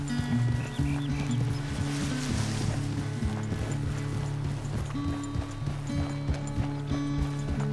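Horse hooves clip-clop steadily at a riding pace in Red Dead Redemption 2, the rhythmic beats sitting under a constant, fairly loud musical score with no talking.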